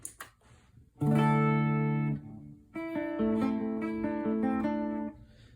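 A Mesa Boogie Rectifier amp on its clean channel with reverb carries clear electric guitar chords, one ringing chord held about a second, then a run of shifting sustained chords, all alone with no talking.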